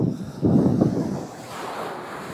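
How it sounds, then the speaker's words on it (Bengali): Strong ocean waves surge onto the shore on the Madeira coast, a loud, near, rumbling wash that swells and then recedes, mixed with wind noise and no talk. "এত জোরে ঢেউ যে দূরে সরেও কুলান যায় না।"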